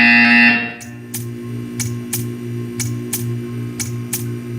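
In the video game Portal 2, a short electronic tone gives way to a low, steady buzzing hum, with sharp clicking pulses repeating at an even pace over it.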